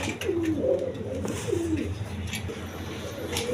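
Pigeons at a Bangladeshi pigeon seller's, cooing in low rolling phrases, two clear coos repeating over steady background hum and faint chirps.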